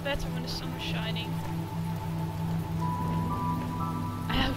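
Steady rain falls in The Talos Principle video game, a continuous close patter over a sustained low hum, with a voice briefly speaking near the start and end.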